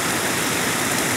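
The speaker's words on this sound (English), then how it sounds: "We're about to cross the creek and continue on with the trail." Forest creek flowing on a winter snow backpacking trail, a loud close continuous rush of water that stays steady throughout, with no talking.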